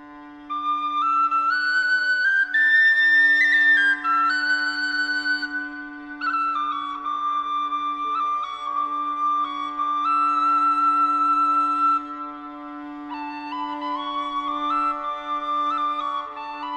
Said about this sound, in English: today I'll be playing it on the whistle with Marja's accompaniment.